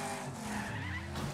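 Car wreck in the racing game Wreckfest: steady engine roar with tire skidding and scraping throughout, loud and continuous for the brief moment.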